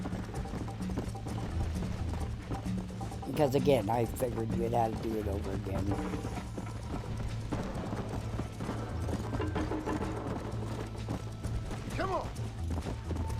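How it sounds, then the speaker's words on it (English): Horse hooves clip-clop steadily in Red Dead Redemption as the horse moves along, a quiet rhythmic patter under someone talking throughout, with a brief whinny partway through. "I felt the horse was ready to buck me off again"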